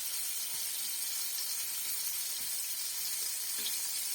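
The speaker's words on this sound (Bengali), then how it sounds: "মেয়ে মেখে রাখছিল, এখন হচ্ছে ভেজে নিচ্ছে" Chicken wings sizzle as they fry in a pan, a steady close hiss with faint pops and no voices.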